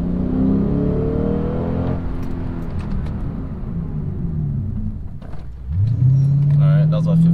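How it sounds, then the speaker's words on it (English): A Lexus RC F accelerates to about 45 mph and then brakes hard to about 15 mph during brake bedding, with a loud, close engine roar rising through the gears, then a drop and a renewed deep hum as the car slows. "I'm about to go to 45 and then brake to 15"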